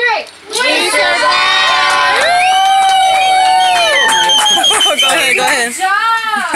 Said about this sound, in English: I need big claps for our survivors